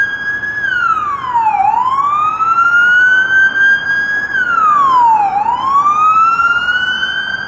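A police car's siren wails loudly and close on a busy city street, Yonge Street near Sheppard in North York, Toronto, sweeping down and back up in two long, repeating cycles over traffic noise.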